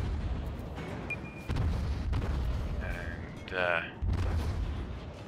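Cruiser guns firing high-explosive shells in World of Warships, heard as deep booming salvos with rumbling low-end noise and some electronic game tones, while someone speaks briefly.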